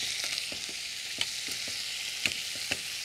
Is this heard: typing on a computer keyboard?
no